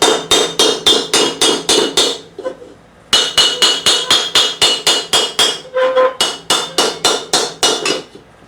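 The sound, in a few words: hammering steel to raise a sallet helmet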